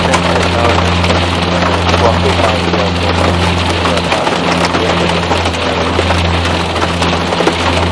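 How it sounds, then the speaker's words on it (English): Steady rain in the X-Plane 11 flight simulator, a dense broadband wash running loud and continuous over a low engine drone, with no breaks across the whole stretch. "see if we can turn down the rain here."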